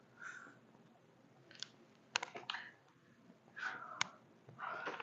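Scattered keystrokes on a computer keyboard, a few sharp clicks and short clusters of taps spaced irregularly, close and moderately loud over quiet background noise.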